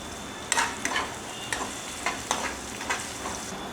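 Mustard seeds and cumin fry in hot oil for a tomato curry, a soft continuous sizzle broken by several crisp spatula scrapes and light popping bursts, close and without voices.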